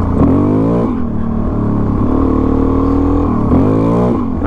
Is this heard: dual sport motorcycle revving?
yes